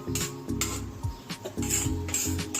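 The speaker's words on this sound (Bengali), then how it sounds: "এবার চালটা দিয়ে মাঝে মাঝে নাড়তে হবে" Rice is stirred in a metal pot while making date-palm jaggery payesh, heard as repeated close scraping and clinking of a spoon against the pot in uneven strokes, with no voices.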